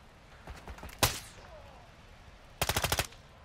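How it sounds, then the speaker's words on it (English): Machine gun fire in a video game: a single sharp shot rings out, then a rapid burst of about six rounds follows after a quiet gap, loud and close. "I'm taking fire."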